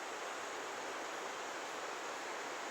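A waterfall deep in New River Gorge gives off a continuous, even rushing roar of water, soft and distant, with no other sounds.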